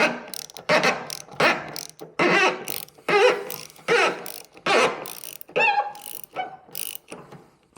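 Ratchet fitted with four extensions loosening a part on a Mr. Heater 70k BTU heater clicks in short, rapid bursts of ratcheting separated by brief pauses, close up.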